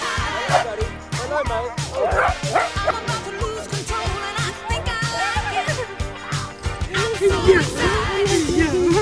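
Several dogs, a toy poodle and a Havanese among them, bark and yip excitedly in rapid overlapping bursts, close and loud, with high whimpering yelps mixed in and some voices in the background.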